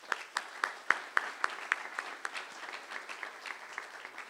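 Audience applause at a university trustees meeting announcing a stadium renaming, a modest crowd clapping with distinct individual claps that gradually thin out and soften toward the end.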